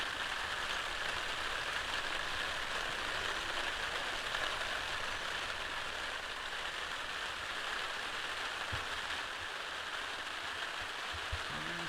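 Steady rain pattering on new plastic sheeting stretched over a greenhouse roof, a continuous soft hiss with scattered drops, even and unbroken throughout, no voices.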